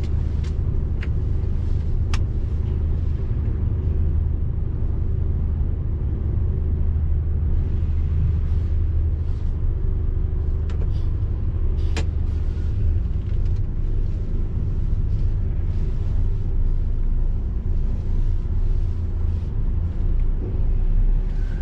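A long-haul truck rolls off a ferry bound for Sweden, its engine a steady, close, low rumble that holds without a break, with a few faint clanks above it.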